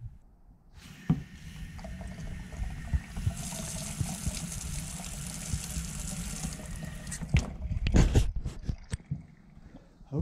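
Water runs steadily from a newly installed sink faucet for several seconds, a close, continuous splashing flow that stops before a few clattering knocks and thumps.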